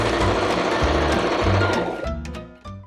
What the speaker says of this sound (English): we're going to stitch it along the outer leg and then the inner leg